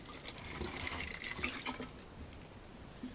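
Water is poured into a bowl of carp fishing booster mix, a short, close, steady splashing trickle lasting a few seconds.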